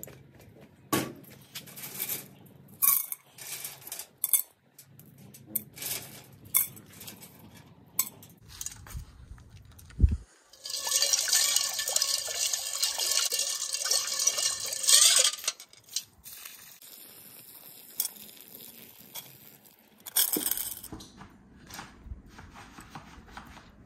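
Small beach sea glass pieces are rinsed in water, clinking and rattling against each other in short irregular bursts, with a longer, louder stretch of jostling and splashing in the middle and quieter clicks around it.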